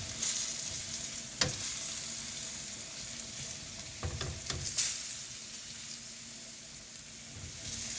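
Potato slices sear in a hot pan with a steady, fairly loud sizzle, and a few sharp clanks and scrapes come through as the slices are flipped.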